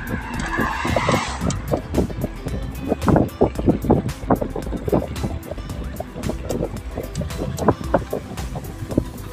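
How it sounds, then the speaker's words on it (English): Busy road traffic passing in a steady stream of cars heard from an e-bike on a road near Frankton, New Zealand, with repeated close whooshes and tyre roar, fairly loud and continuous, no talk over it. "A lot of traffic. Very busy place this."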